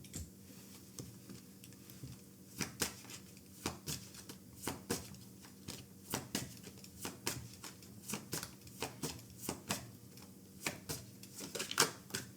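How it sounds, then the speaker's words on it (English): Tarot cards from a Hard Truth deck are shuffled and drawn close up: quiet, rapid papery snaps and flicks come in uneven bursts over a faint background hiss, with no voices. "So I'm going to pull 2 cards for you."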